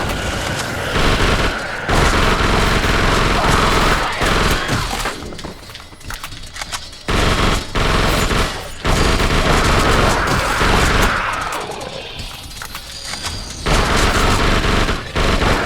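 Gunfire from the video game The Suffering: loud bursts of rapid shots and booming blasts come in clusters, separated by short quieter gaps, with no speech.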